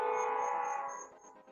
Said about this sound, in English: Got the train going in the background